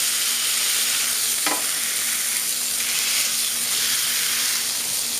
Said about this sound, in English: Do a little push down, a little more sear. Flatten them out.